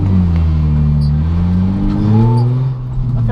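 A drift car at a drifting event idles loudly and steadily up close, its deep engine drone holding with slight swells in pitch, with no handbrake working.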